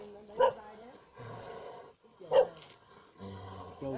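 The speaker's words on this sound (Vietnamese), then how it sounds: "Chó kia vào cổ vũ hay nhỉ." A dog barks twice, close and sharp, at a buffalo fight in Vietnam, each bark standing out against a bed of steady talk and crowd noise.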